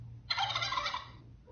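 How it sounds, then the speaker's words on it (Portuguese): A single synthetic turkey gobble from a sound-effects app, a loud warbling burst lasting about a second over a faint steady hum, with no talk. "Peru,"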